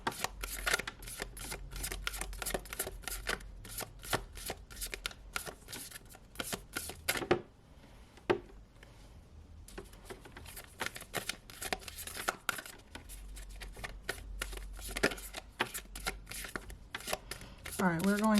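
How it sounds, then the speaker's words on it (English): Tarot cards are shuffled repeatedly in quick riffling bursts with a short pause midway, crisp and close, with soft speech in the background. "we're going to give 3 more shuffles"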